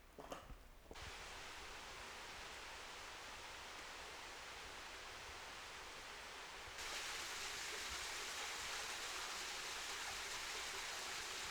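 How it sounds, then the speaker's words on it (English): Steady rushing water flows continuously through Knox Gorge in Karijini, Australia, a broad hiss that swells louder partway through, with a brief rustle at the start and no voices. "Flowing water means it's safe to jump in"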